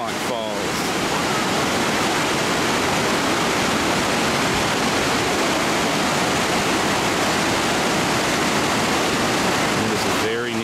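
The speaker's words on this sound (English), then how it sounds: "This is Hemlock Falls." Hemlock Falls in Cloudland Canyon pours in a dense, unbroken roar of falling water, loud and close for the whole stretch.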